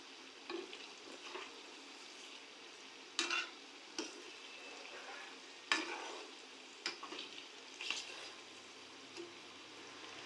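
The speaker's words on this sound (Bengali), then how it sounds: "তো এখানে সরষের তেলেই ভাজছি" Palm fritters frying in mustard oil, a soft steady sizzle broken by several sharp scraping clinks of a utensil stirring and turning them in the pan, with no one speaking.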